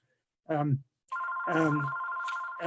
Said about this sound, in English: Sorry about my phone, but I'm going to let it go.